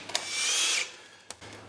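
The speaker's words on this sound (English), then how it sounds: "I'm going to drill the hole and then come back." A power drill bores into a thick piece of metal during a wheelchair R-Net swap, one short high whirring burst, then a sharp click or tap, all close by.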